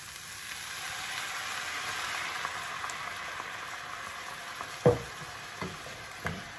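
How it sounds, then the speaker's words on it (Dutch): A pan of cauliflower and potato curry hisses and sizzles steadily at close range after a little water is added, with a few scattered clinks and scrapes of a utensil toward the end. "Gaat een klein beetje water bij voor het stoomeffect."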